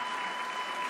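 Audience applause at the 2015 NATAS Northwest student awards ceremony, a steady, dense wash of clapping from a crowd that fills the whole moment without letting up.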